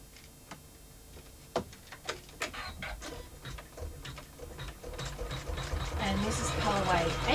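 An embroidery machine stitches an in-the-hoop small wallet, giving a fast, even mechanical chatter that grows louder and busier toward the end, with someone talking over parts of it.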